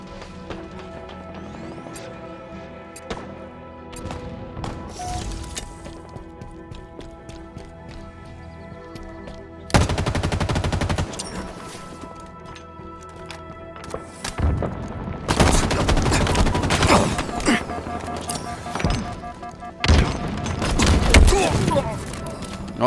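Halo Infinite gameplay brings bursts of gunfire, first scattered sharp shots, then long loud rapid volleys that come and go, with a player's voice talking over the action.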